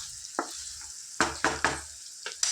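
Boiled eggs being gently stirred into an onion egg curry in a pan, a few separate spoon scrapes and soft knocks over a faint low simmer, close and moderately loud.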